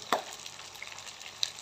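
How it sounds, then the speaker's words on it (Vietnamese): Steamed vegetarian corn patties fry in moderately hot oil, giving a faint, quiet sizzle. A sharp clatter near the start and a soft click later stand out from the gentle bubbling. "Thì món chiên mình cho dầu nóng vừa phải thôi."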